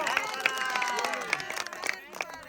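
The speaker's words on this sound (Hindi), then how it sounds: "चलो जी तालियां" A small family group claps and cheers at a home anniversary celebration, scattered light applause under faint background chatter, fairly quiet.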